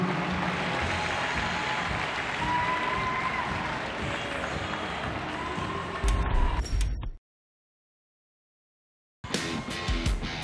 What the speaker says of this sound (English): Give them a round of applause and all the rest of the teams here as well